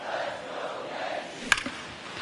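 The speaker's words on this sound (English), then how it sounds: "You hear the crowd chanting, "Let's go Yankees."" A video game baseball crowd at a Yankees home game chants in the stadium, a broad, moderately loud roar with a rhythmic cheer and a sharp crack near the end.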